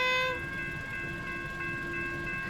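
A high-rail vehicle running on railroad tracks holds a sustained, multi-tone horn blast at close range. The horn stays loud and steady throughout, over a low running rumble.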